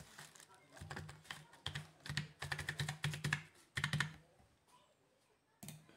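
Someone types a number on a computer keyboard in quick clusters of soft clicking keystrokes with brief pauses between bursts, close and fairly quiet indoors.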